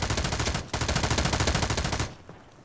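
Rapid automatic gunfire in PUBG, a continuous burst of loud, closely spaced shots for about two seconds before cutting off into quieter ambience.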